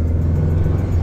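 A car fitted with Weber IDF carburetors pulls away with a steady, deep engine rumble that holds at an even level throughout, with no talking.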